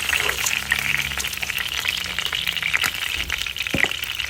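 Peppered turkey wings frying in oil in a pan: a continuous, fairly loud bubbling sizzle with a brief clatter near the end, without speech.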